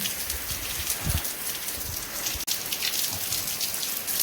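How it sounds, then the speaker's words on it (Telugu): Heavy rain pours down steadily, a dense, constant hiss of drops drumming on surfaces. "చూడండి వర్షం ఎలా పడుతుందో"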